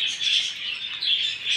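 High-pitched pigeon calls pulse in a repeating rhythm, fairly close, with no voices over them.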